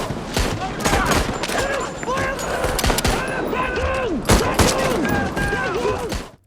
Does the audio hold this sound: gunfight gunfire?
yes